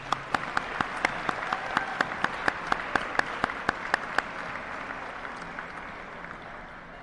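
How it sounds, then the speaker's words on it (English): Applause for a relay team at a high school senior athletic awards night, with a few close sharp claps standing out in a quick steady beat over a softer crowd of clapping that thins toward the end. "Round of applause for all of them."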